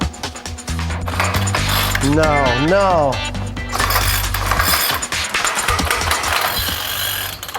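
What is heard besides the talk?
small motor straining under too much torque, mechanism grinding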